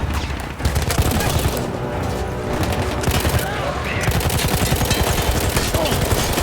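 Dense, continuous gunfire from a Battlefield video game, overlapping bursts of automatic fire and rapid shots crowding the whole stretch with little pause, loud and close throughout.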